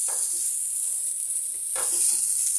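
Pointed gourd fries in hot oil with a steady, bright sizzle close by. Two brief scraping stirs break through the constant hiss, and no one speaks.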